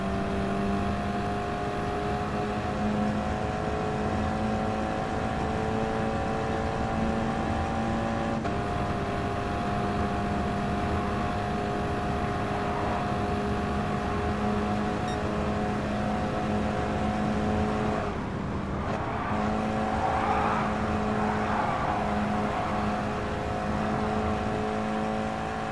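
In Gran Turismo Sport on PS4 Pro, a race car laps a circuit with a steady high engine whine and tonal drone. The engine dips briefly around a gear change or corner near the middle, then climbs again, all at even, fairly loud level without talk.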